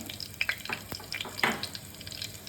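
Bay leaf and fennel seeds frying in hot oil for kadala kuzhambu, a soft steady sizzle with a few scattered crackles and pops throughout.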